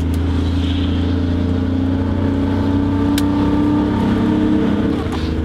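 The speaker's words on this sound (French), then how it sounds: "Il y a un petit peu de ronflement dans le tunnel." A Porsche 911 2.7L Targa engine drones steadily inside a tunnel, its deep, even hum and rumble holding loud and close for several seconds at a constant cruising speed.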